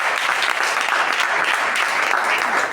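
A church congregation at a crusade meeting applauds, a dense, steady burst of clapping from many hands that stays even and loud throughout.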